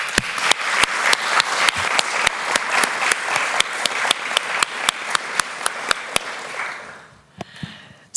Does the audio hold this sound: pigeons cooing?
no